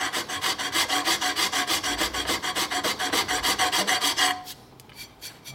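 A hand file rasps across metal during a clutch and primary repair on a 1972 Harley-Davidson XL Ironhead Sportster bobber, giving a rapid, even rhythm of close, gritty strokes that stops abruptly near the end.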